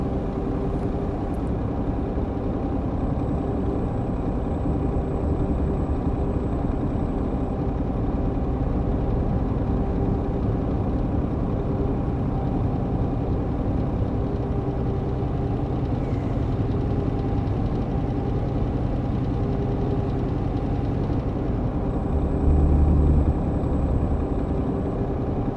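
A semi-truck pulling a semi-trailer in the On the Road truck simulator drones steadily, a low, even engine rumble that holds unchanged throughout with no talking.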